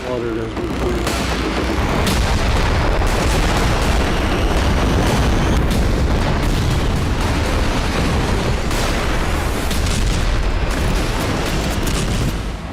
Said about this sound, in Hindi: नुसीरात शिविर पर मिसाइलों की बारिश की जा रही